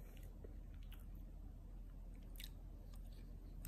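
Close, soft chewing and biting of french fries, with moist squishy crunches in irregular bursts over a steady low heater hum, no talking.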